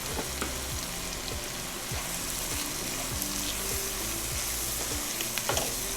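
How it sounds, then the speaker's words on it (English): Finely chopped tomatoes sizzle and crackle in a hot pan for dry shrimp khichadi, a continuous close frying hiss with repeated sharp pops and the scrape of stirring. "To that I'm going to add about 2 medium-sized tomatoes I've taken,"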